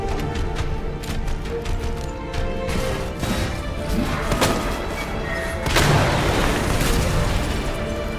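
Grenade launcher fire in Resident Evil 2 Remake, loud booming blasts and thuds through dense game action, with a heavier explosive burst near the end.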